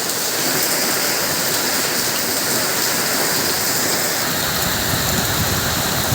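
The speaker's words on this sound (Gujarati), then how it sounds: "શું વરસાદ પડે છે અત્યારે" Steady, dense downpour of heavy monsoon rain in Vallabhipur, Gujarat, with strong wind, hissing continuously with no pauses, loud and close, with no voices.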